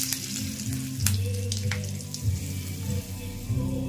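Hot oil crackles and sizzles as a tempering is poured into green chilli chutney, popping steadily at close range with no talking.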